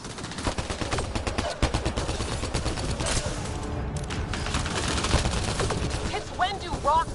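Dense, sustained gunfire from a firefight in Mass Effect Andromeda, rapid overlapping shots and bursts crowding the whole stretch, with voices and other battle noise mixed underneath.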